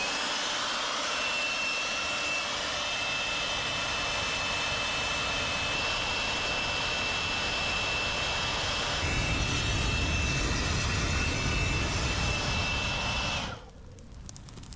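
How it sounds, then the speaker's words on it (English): A battery-powered DeWalt leaf blower is blasting air into burning stump fires outdoors, making a loud, steady whooshing roar throughout, with a deeper fire rumble building midway before it abruptly cuts off near the end. "I got a new battery for the DeWalt blower here. I'm going to stoke each one of these fires."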